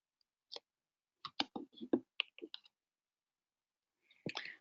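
A computer mouse clicks in a quick irregular series of sharp, close taps, a pause, then a final cluster of clicks, in an otherwise silent room.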